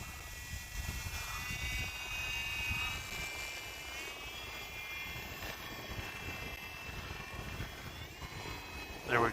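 RC plane on Dubro snow skis coming in to land at about quarter throttle, its steady engine drone holding at moderate loudness throughout with a faint rise at the end.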